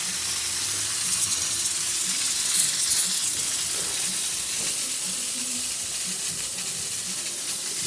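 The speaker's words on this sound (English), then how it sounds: "Let's open up steam so you can see." The steam wand of an Expobar espresso machine releases a steady, loud hiss of steam that holds evenly throughout, close up and unbroken.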